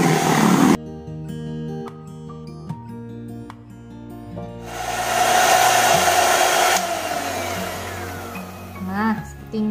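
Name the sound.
electric mixer whipping cake batter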